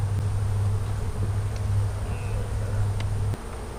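A swarm of honey bees being moved by hand, a steady close buzzing drone with faint outdoor background, dropping off abruptly near the end.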